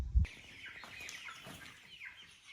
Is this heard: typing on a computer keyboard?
no